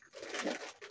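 A crow caws a few times, harsh and rasping, fairly close, with short pauses between calls.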